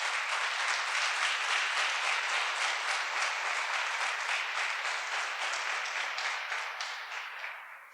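A church congregation applauds in sustained, even clapping that fills the room, then gradually fades toward the end.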